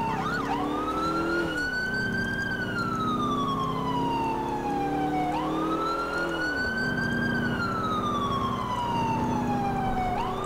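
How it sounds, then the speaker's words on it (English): A real ambulance siren wails outside a window, sweeping up and down in long repeating cycles, loud and steady over a low rumble of traffic, with no one speaking. "there's actually a real ambulance right outside my window, and I thought it was a game"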